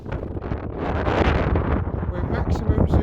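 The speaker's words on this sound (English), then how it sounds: "It's very windy." Strong gusting wind on open Dartmoor moorland at Merrivale buffets the microphone, a loud continuous roar with swelling gusts throughout.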